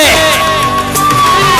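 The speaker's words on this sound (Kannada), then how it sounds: "ಜೋರಾದ ಚಪ್ಪಾಳೆ" A crowd at an under-20 men's open kabaddi tournament shouts and cheers loudly for the championship team, with whoops rising over the noise and an announcer's amplified voice speaking over it.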